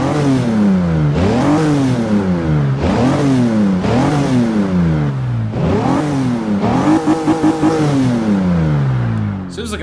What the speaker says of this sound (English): let's rev it up, see how it sounds